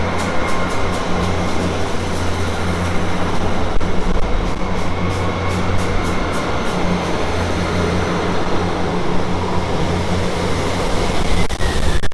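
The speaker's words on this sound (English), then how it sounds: "that's the terminating GWR service there with a load of people going off" A GWR passenger train terminating at Basingstoke station gives a loud, steady rumble and rolling roar with repeated clicks of wheels and carriages, running throughout without speech.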